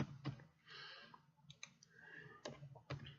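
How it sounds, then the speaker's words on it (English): Quiet, close keyboard typing: irregular clusters of light plastic key clicks on a computer keyboard, with brief gaps between keystrokes. "give me just a few seconds here to type these in"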